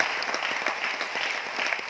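Loud, dense applause from a large audience at a motivational seminar in Aurangabad, Maharashtra, with steady clapping filling the hall evenly for the full two seconds and no voices on top.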